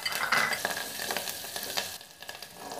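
Curry leaves hitting hot oil in a pan for an aloo carrot fry, a close, bright crackling sizzle with quick pops and spoon stirs, fading slightly toward the end, no voices.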